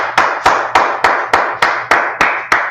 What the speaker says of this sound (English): Let's clap it up for the class.